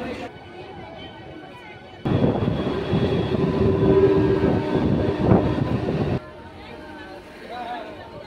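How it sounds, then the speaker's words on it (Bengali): A local train on the Amghata–Krishnanagar line pulls away. A loud, rolling rumble with clattering wheels builds suddenly and holds for several seconds before dropping back to a quieter carriage hum. "তো ছেড়ে দিল আমাদের ট্রেনটা"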